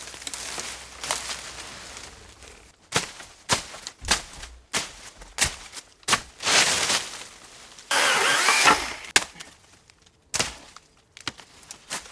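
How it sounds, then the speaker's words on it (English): A pole saw's small engine is pull-started in steep woodland for cutting trees, with repeated sharp cord-pull bursts and sputters, then a brief rough run before cutting out, heard close and loud. "I'm going to get a pole saw and cut it down"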